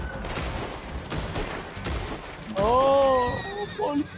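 A horse in a video game neighs loudly after being shot, a clear falling whinny following a stretch of gunfire and busy game noise, with a shorter snort at the end; a player talks over the action.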